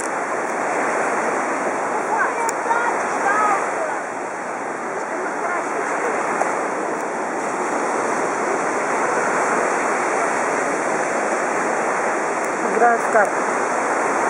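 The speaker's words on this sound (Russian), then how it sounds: "Пустой пляж." Surf washes onto an empty beach in a steady, broad roar of breaking waves with wind, constant and fairly loud, while a voice briefly speaks over it.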